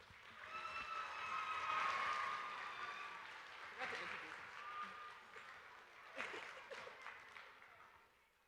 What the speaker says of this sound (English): give yourselves a well-deserved round of applause